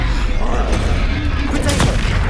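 Bombarda and Confringo spell blasts in Hogwarts Legacy on PS5 sound as dense, overlapping booms and crackling bursts close up, with a voice talking over the chaotic combat.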